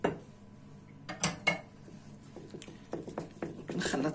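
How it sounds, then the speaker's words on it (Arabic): Spoon or utensil knocks and scrapes against a bowl while Turkish bread dough ingredients are mixed, a few sharp clinks followed by soft stirring rattles close by. "نخلط كامل هاد المكونات هادو"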